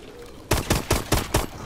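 Video game gunfire in Exo Zombies: five loud, evenly spaced shots in quick succession, close and punchy, with no talk over them.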